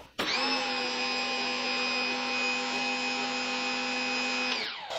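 Active VE52 budget electric pressure washer (about 1200 PSI, 14.7 amps) spraying steadily through a 3.0 nozzle, a loud continuous high-pitched hiss and motor whine that starts abruptly, holds for several seconds, then cuts off.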